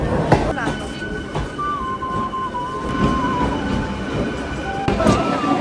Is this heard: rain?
no